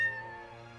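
A short, clear cat meow from the Goddess of Victory Nikke video game, a single tonal cry that fades out quickly, alone with no talk.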